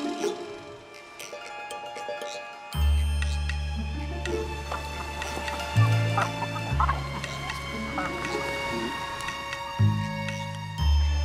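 Chickens and other poultry cluck in an outdoor border market on the Táchira riverbank, with steady low-pitched noise and scattered bird calls running throughout.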